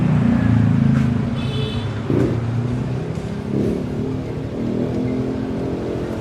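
A motorcycle engine revs and shifts gears up close, its broad low rumble rising and dipping through the stretch with no talking.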